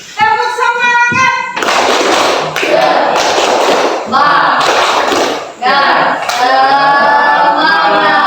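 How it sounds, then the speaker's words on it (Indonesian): An Indonesian classroom class performs the rhythmic 'tepuk semangat' spirit clap, loud patterned bursts of clapping and chanted children's voices alternating with a teacher's speech. "Coba kalau masih semangat kita tepuk semangat."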